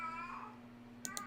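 A house cat gives a short, faint meow in the background over a steady hum, followed by two soft clicks.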